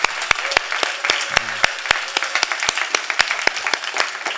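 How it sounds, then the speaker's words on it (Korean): Scattered applause from a small church congregation, individual sharp claps spaced irregularly, with a brief murmur of voices partway through. "우리 선생님들한테 좀 격려의 박수 한번 먼저 할까요?"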